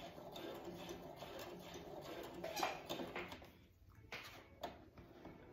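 Brother sewing machine back stitching, a quiet rapid mechanical whir with a rhythmic clatter that stops briefly and resumes, followed by a few small clicks and knocks nearby.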